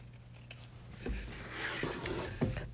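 Scissors snip through fabric to cut out the zipper area of an in-the-hoop jellyroll bag, with several close, crisp cuts in an irregular rhythm and no talking.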